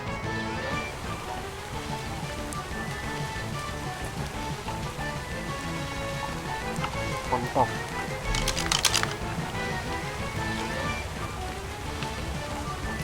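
Steady rain falls in the survival game ARK, a dense continuous patter across the whole stretch with a brief burst of sharper spattering partway through.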